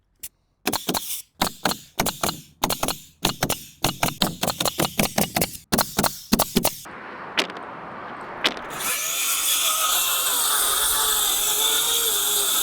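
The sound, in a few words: saw cutting lumber scrap for gable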